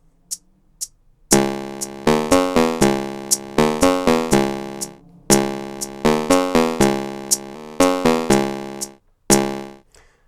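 Modular synthesizer sequenced from an Akai MPC X plays a simple pattern of bright, plucky tones with sharp attacks and quick decays, loud and close, a few faint clicks before and after the notes.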